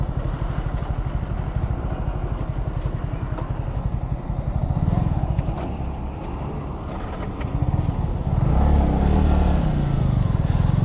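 Motorcycle engines drone steadily at close range as a group of riders travels out to Almatti for Republic Day, with continuous rumbling and occasional revving swells.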